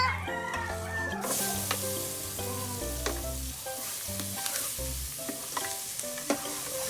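Onion frying in a pan for sopas gives a steady close sizzle with scraping stir strokes, while chickens cluck intermittently in the background.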